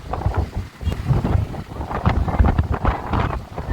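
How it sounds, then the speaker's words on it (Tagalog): Heavy wind blasts directly against the microphone in loud, choppy buffeting bursts for a few seconds. "Lakas ng hangin."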